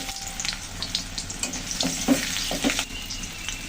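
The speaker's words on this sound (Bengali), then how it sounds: "আবার তো তেল দিয়েছি গরম হয়ে গেছে এখন আলুগুলো ভেজে নেব" Potato pieces frying in hot oil in a pan, a steady close sizzle with bursts of crackle and small stirring clinks throughout, no talking.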